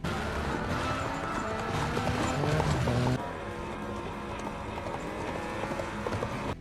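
Horse hooves clip-clopping in rapid galloping rhythm as a character rides off in a film, loud and steady under dense music and background noise, with a brief whinny-like sound.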